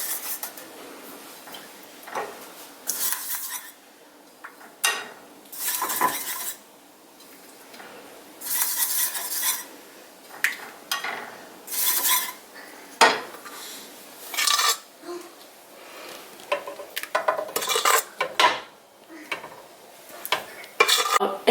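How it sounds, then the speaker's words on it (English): Metal baking pans for Dutch baby pancakes being buttered, giving scattered scraping, rubbing and clinking of utensils against metal in short bursts, close and moderately loud, with no talking. "So I'm going to butter these."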